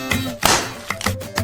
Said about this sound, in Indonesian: Hancurkan coklat batangan ke meja.